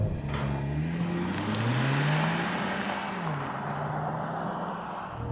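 A 2024 Mercedes-Benz CLE 300 4MATIC coupe, rated 255 horsepower, accelerates hard from a standstill without launch control, its engine note climbing steadily and then dropping at a firm upshift, loud and continuous with no voices.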